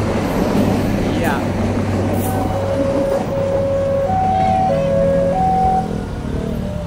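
The Argo Parahyangan train passes a level crossing in Indonesia, with a loud steady rumble, a horn sounding in several sustained tones and crossing bells in the background, while people talk over it.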